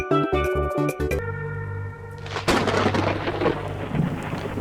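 A stormy sea scene in a webcomic dub opens with a tonal musical sting, then a loud thunder crack breaks into a sustained, dense rush of heavy rain and rumbling storm noise, with no talking.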